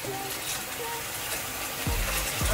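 Running water from a tap rinses dirty goalkeeper gloves, a steady wash of splashing and gushing with a few gurgling bursts and a louder, fuller flow near the end.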